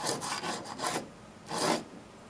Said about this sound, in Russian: древняя наждачка.